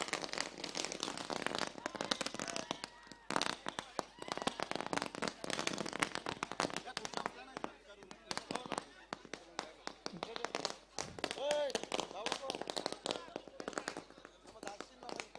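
Firecrackers burst in a long, dense, irregular barrage of sharp cracks and pops at a village cricket tournament's farewell after the 2018 Agri-Koli Chashak final. It sounds fairly distant and sustained, with crowd voices mixed in.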